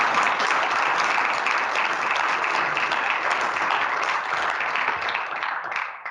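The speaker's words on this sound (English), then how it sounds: "how about a round of applause?" Audience applause at an entrepreneurship lecture series event, a dense, sustained wash of many hands clapping close by that holds steady for several seconds before tapering slightly at the end.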